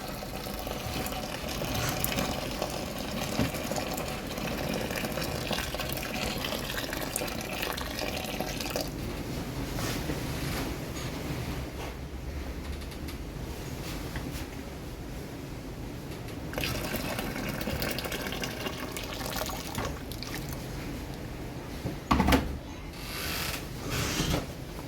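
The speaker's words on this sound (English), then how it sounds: "Get some boiling water in." Boiling water pours into a fermenter holding sticky beer-kit malt extract, a steady splashing fill that runs at even loudness for around twenty seconds, then a brief louder clunk near the end.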